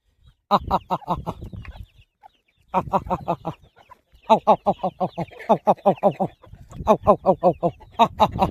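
A hen clucks in repeated short bursts, close by, in several rhythmic runs separated by brief pauses.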